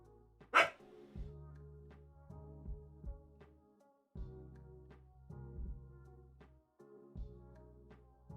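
A dog in a Minecraft server game barks a few sharp times near the start, then low, drawn-out growl-like tones pulse in and out, fairly faint overall.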